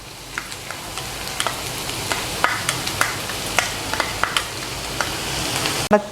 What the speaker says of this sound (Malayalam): ഈ വെളുത്തുള്ളി ഒന്ന് ഇളക്കി കൊടുക്കുക. ഒരു മിനിറ്റ് ഒന്ന് വഴറ്റിയിട്ട് ഇഞ്ചി അരിഞ്ഞത് ഇട്ട് കൊടുക്കാം.